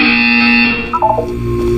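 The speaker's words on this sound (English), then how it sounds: "You will hear a buzzer." A harsh electronic buzzer sounds in Portal 2, one loud sustained tone lasting under a second, followed by a short sequence of rising beeps and a lingering low hum.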